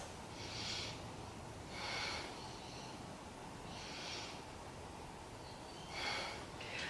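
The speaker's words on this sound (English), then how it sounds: "Breathe into the belly, 3 big breaths." Deep belly breaths during a beginner yoga session, several slow airy inhales and exhales spaced a second or two apart, soft and close, with no talking.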